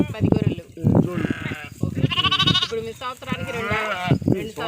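Ongole breed sheep on a farm bleat repeatedly and close by, several overlapping wavering calls following one another in quick succession while a person talks among them.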